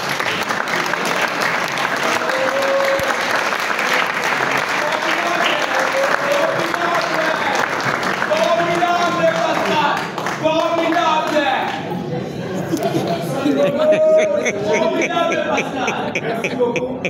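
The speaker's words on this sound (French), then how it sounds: "si on peut applaudir pour Pascal, merci Pascal." A theatre audience applauds steadily and loudly for a long stretch, dense continuous clapping with scattered voices and calls mixed in.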